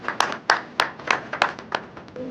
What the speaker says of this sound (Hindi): शिल्पी पर जोरदार ताली बजा रही है।